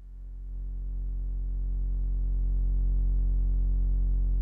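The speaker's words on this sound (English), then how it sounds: "let's listen to this triangle going through the wave folder at the lowest intensity" A triangle wave from a DIY mki x es.EDU synth module passes through a wavefolder set to its lowest intensity, giving a steady, soft, pure low tone that swells gently in volume at the start and then holds.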